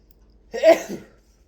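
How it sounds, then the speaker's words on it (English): A single short, sharp sneeze bursts out in near silence, close to the listener. "the flowers made me sneeze"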